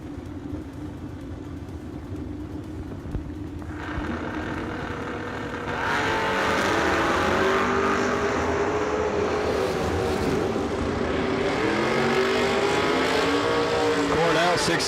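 Two drag racers, a split-window Corvette and an S10 truck, launch at a bracket race, their engines rising from a steady idle into a loud, sustained roar with shifting pitch that carries to the end, with announcer-style talk beneath.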